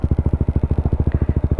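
Honda CBR motorcycle with a stock engine and a long WRX K3 oval aftermarket exhaust, heard up close as a loud, deep, evenly pulsing exhaust beat during a short blip of the throttle.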